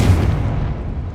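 A Confringo blasting spell goes off in the Hogwarts Legacy video game, a single loud, deep explosive boom with a rumbling tail that fades over about a second.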